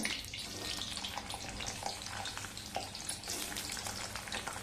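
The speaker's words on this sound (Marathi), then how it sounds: "आता फरसबी टाकूया" Green beans frying in hot oil for a dhaba-style veg dum biryani, a steady dense sizzle that runs throughout, close and even, with small crackling pops and no talk.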